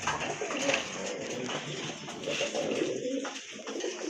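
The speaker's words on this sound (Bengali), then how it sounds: "আরেক জোড়া কবুতর লাহোরি কবুতর হোয়াইট অ্যান্ড ব্ল্যাক কালার" Big black-and-white Lahori pigeons coo close by, a soft, throaty, rolling call that continues through the short stretch with faint background noise.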